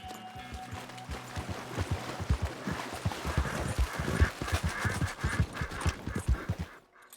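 A horse gallops in Red Dead Redemption 2, its hooves pounding in a steady, close rhythmic clip-clop that builds and then cuts off abruptly at the end.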